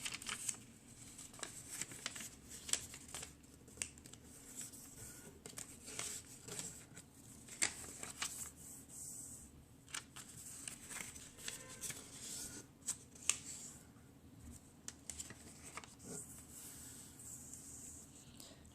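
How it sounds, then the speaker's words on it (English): Paper origami hyperbolic paraboloid being refolded along its creases, a soft continuous rustle and crinkle of handled paper close by with occasional sharper creasing snaps, fairly quiet. "flip it over, and we're going to fold along the same creases the other way"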